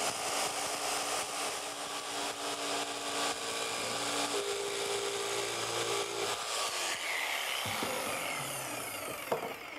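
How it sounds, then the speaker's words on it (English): Jigsaw fitted with a special ceramic blade cutting a clamped tile: a rough, buzzing, rasping cut close by, steady for several seconds before the motor stops and a few clicks and knocks follow. "you can use your jigsaw with a special ceramic blade inserted"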